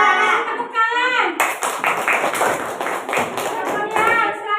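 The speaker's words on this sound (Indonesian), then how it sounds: "Kasih tepuk tangan." Classroom of students clapping their hands together, a burst of quick, close, overlapping claps that starts after a short spoken line from a teacher and continues for a few seconds.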